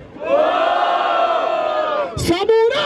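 A crowd at a Batalha da Aldeia rap battle in Barueri, São Paulo, shouts and cheers in a loud sustained roar of voices, then breaks into short rhythmic chant bursts near the end.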